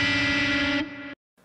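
Electric guitar played through a Line 6 Helix on a non-bridge pickup for a fatter tone, a sustained distorted chord with effects that rings loud, drops in level partway, then cuts off into brief silence and a faint tail.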